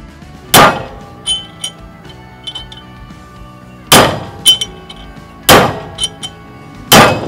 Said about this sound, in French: Frappez au marteau pour faire entrer la nouvelle cage dans son emplacement.